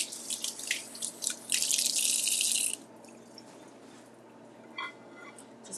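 Tap water runs and splashes over a handful of cherry tomatoes in a sink, a bright hissing rush for a few seconds before it cuts off, leaving faint drips and small clinks.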